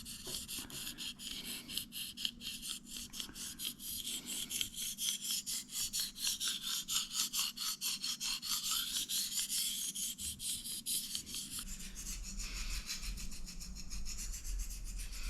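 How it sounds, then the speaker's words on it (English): A knife blade is honed on a fine Arkansas honing stone, giving a long series of close, even rasping strokes in a steady back-and-forth rhythm, with no talking. "Arkansas honing stone here. Hold it against the flat part of the blade"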